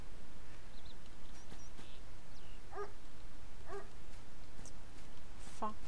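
Dog barks and yips in the S.T.A.L.K.E.R. Lost Alpha game world, a few short isolated calls at middle distance over a steady ambient hiss, with boars nearby.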